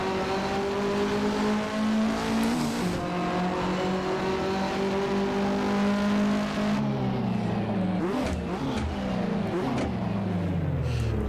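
Several late-1980s Australian Touring Car Championship cars, Walkinshaw VL Commodores, a Supra and an R32 Skyline, roar together in an Assetto Corsa race, engines droning steadily with shifting pitch as they downshift and accelerate, loud and continuous with no talk.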